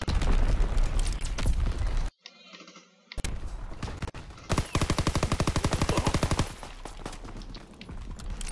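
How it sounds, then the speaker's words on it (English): Gunfire and bomb blasts roar in the World War II shooter Call of Duty WWII. Dense booming bursts stop for a brief near-silent gap, then a rapid machine-gun rattle streams loud and close before it fades into rumbling explosions. "Enemy bomb incoming."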